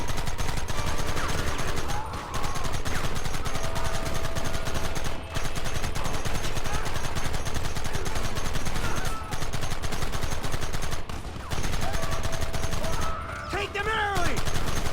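Dense, continuous gunfire from a Red Dead Redemption shootout, loud overlapping volleys with brief gaps, and shouting voices mixed in throughout.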